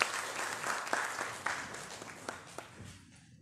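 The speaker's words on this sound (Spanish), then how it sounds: "Agradecemos con un fuerte aplauso." Applause from the audience at a university biology symposium, a steady patter of clapping that thins out toward the end, with a few sharp individual claps standing out.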